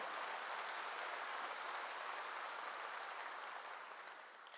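A church congregation claps together during a Korean sermon, a steady, even roar of many hands filling the room, fading slightly at the end.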